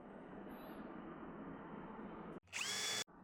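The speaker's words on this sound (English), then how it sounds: "Using a 3/8 spade bit, I'm going to go pretty far down into my material" A power drill with a 3/8 spade bit boring into wood, a steady close whirring drone for over two seconds, then a brief higher-pitched burst after a short pause.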